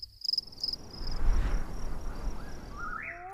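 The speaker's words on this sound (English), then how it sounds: "Prairie." Crickets chirr steadily in open prairie ambience, a dense insect drone with faint bird calls rising near the end, no talking.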